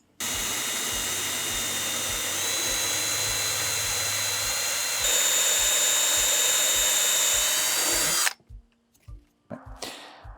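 A power drill bores through an aluminum handrail joint, a loud sustained whine with a steady rhythmic pulse that shifts pitch partway through, then stops abruptly, leaving brief scattered clatter.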